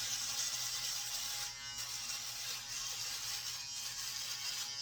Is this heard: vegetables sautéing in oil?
no